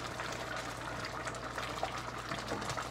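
Tamarind kuzhambu curry boils steadily in a pot with a continuous bubbling, hissing wash of sound at low level, no voices.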